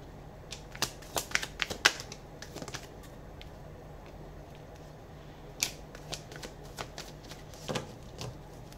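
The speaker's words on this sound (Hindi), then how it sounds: "मैं एक बार और शफल करना चाहती हूँ" Tarot cards shuffled by hand in a quiet room, a run of crisp riffling flicks and soft slaps that cluster early, pause, then return in a few brief bursts, fairly close and alone without talk.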